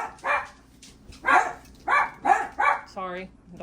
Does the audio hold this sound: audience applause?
no